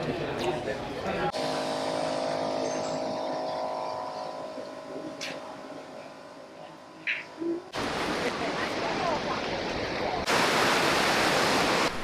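A waterfall in Taiwan rushes as a steady broadband roar that briefly fades mid-clip before returning louder and fuller, with a few faint bird calls and short murmurs of voices.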